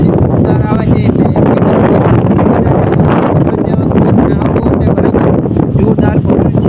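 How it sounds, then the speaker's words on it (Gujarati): Strong wind gusts under a neem tree with a loud, continuous roar and buffeting close to the microphone, while a voice comes through intermittently beneath it. "પવન આ બાજુ જોરદાર આવે છે"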